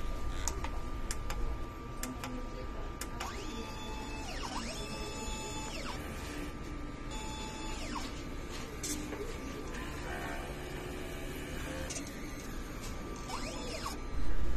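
Mechanical ticking and whirring as a DTF printer's print head shuttles back and forth during a head-cleaning cycle, with repeated sweeping tones and steady machine hum, closer and louder at the end.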